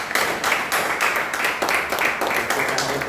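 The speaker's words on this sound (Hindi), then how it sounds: "तो परमेश्वर के लिए भी ताली मार दें जोर से" A church congregation claps loudly for God, a dense, steady burst of many hands filling the hall for about three seconds with no voices on top.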